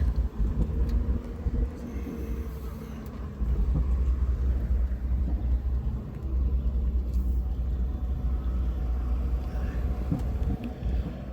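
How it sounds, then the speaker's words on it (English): A car passes on the road close to a running vehicle with a 4-speed automatic, a low broad engine and tire rumble swelling and fading across the clip with no talk over it. "I'll let this car go by me."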